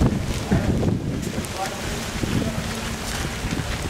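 Gusty wind buffets the microphone on Iceland's south coast on a stormy day of hail, a steady low roar with rougher swells throughout, and a voice speaks faintly underneath.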